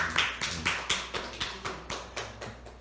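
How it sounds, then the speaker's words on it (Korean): A church congregation claps in a steady, even rhythm of about four claps per second to welcome a deacon during a worship service. The clapping is sharp and close, with no talking over it. "우리 박수로 환영할까요?"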